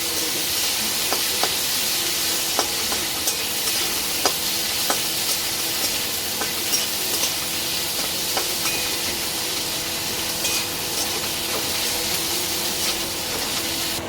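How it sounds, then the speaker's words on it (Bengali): Onions frying in oil until reddish-brown in a home kitchen, cooking for a cabbage and fish-head dish; a steady, dense sizzle runs throughout, with sharp scattered clicks of stirring and no talking. "পেঁয়াজগুলো একটু লাল লাল করে ভাজা করে নিয়ে তারপর আদা দেয়"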